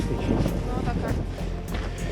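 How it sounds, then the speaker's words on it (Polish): Strong wind blows steadily outdoors near castle ruins in Lipa, a continuous loud rumbling rush buffeting the microphone with no pauses. "Na razie tylko mocniej wieje."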